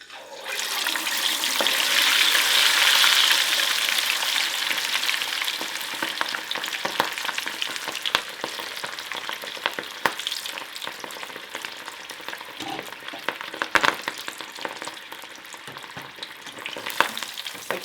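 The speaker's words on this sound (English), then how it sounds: "we're just gonna deep fry these little babies till they're golden brown" Tempura-battered prawns and vegetables drop into hot oil for deep frying, a loud hissing sizzle surging at first, then settling into steady crackling bubbling with scattered pops, heard close with no talking.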